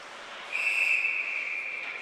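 A referee's whistle at a varsity high school ice hockey game blows one long, steady, shrill blast after a brief rise, standing clear over faint arena ambience.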